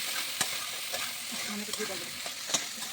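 Spices with turmeric and sugar sauté in oil for a vegetarian chhana curry. A soft, steady sizzle is broken by a few sharp spoon taps and scrapes against the pan, with no speech.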